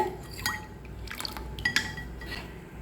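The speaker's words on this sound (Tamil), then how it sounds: "இதில் நமக்கு தண்ணியை சேர்த்துக்கலாம்." Water being added to mint water for pani puri: faint, quiet liquid trickles and a few small splashes and drips in a kitchen, with soft clinks over low background hum.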